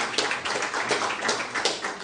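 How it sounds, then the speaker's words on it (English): A modest audience at a local board candidates' meeting claps for the candidates, a brief, fairly quiet patter of hand claps with uneven rhythm. "round of applause for our candidates"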